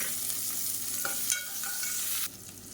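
Chopped shallots frying in a pan of oil with cloves and cardamom for a South Indian lunch dish, a steady close sizzle with a few brief stirring scrapes, fairly faint and with no voices.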